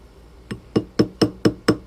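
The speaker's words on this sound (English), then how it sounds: "Now this is a rubber mallet" A rubber mallet taps a metal ring six times in an even rhythm, each a short, dull knock, close and clear with no talking.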